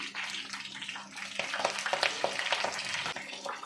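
Flowers dropped into hot hair oil in a pan, sizzling and crackling steadily with scattered pops, close and fairly loud throughout.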